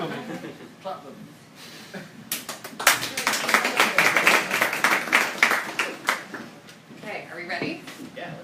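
An audience at a book discussion event breaks into applause, dense clapping swelling after a few seconds and then tapering off, with laughter and chatter mixed in.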